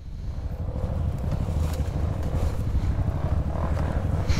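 A dirt motorcycle idles on a muddy trail with a steady, close, low, pulsing engine rumble, mixed with gusts of wind noise on the microphone.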